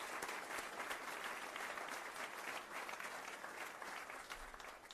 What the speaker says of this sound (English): So a hand of applause for Governor Herbert and his wife, First Lady.